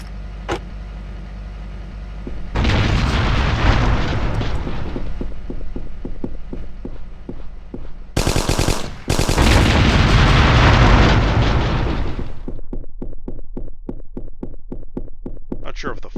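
A giant chain reaction of explosions in the modded war game Hidden & Dangerous Deluxe: a sharp crack, then long roaring blasts and rumbling fire that build, cut out briefly and resume, ending in rapid crackling pops.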